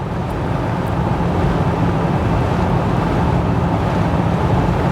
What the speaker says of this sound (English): that wind noise is amazing